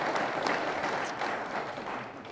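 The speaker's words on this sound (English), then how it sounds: "Let's give your delegation a great round of applause." Audience applause at a governor's press conference on pro-life legislation, a faint, distant and even patter of many hands that continues steadily for a couple of seconds with no talk over it.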